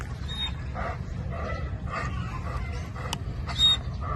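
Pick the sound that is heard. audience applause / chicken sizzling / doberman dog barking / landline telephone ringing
doberman dog barking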